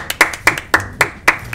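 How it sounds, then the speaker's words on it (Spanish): Sharp hand claps ring out in a quick, regular rhythm, about a handful of crisp claps close to the microphone. "Un aplauso para ese hombre."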